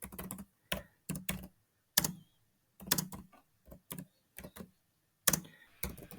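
Bursts of computer keyboard typing, close and clear, come in short irregular clusters separated by silent pauses as a prompt is entered into ChatGPT.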